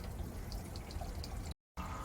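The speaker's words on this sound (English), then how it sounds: "You can see the water exiting straight into a charcoal pad" Water from an aquarium siphon hose pours steadily into a charcoal filter pad, making a continuous splashing, trickling wash with small drips on top. The sound cuts out briefly near the end and then resumes.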